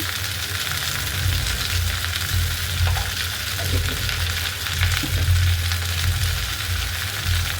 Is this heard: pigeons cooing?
no